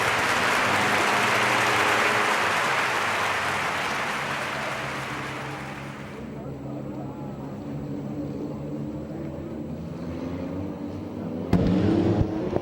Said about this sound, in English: Nice round of applause for your heat race winner and current points leader